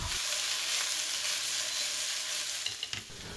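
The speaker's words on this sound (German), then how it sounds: "Da geben wir Butterschmalz in eine Pfanne und wir braten gleich mal schon die Paprikastreifen an." Bell pepper strips fry in clarified butter in a pan, a close, steady bright sizzle with a few sharp crackles and stirring clicks near the end, no voices.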